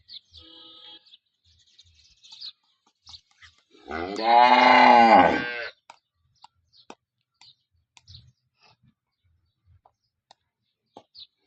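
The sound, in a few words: cows mooing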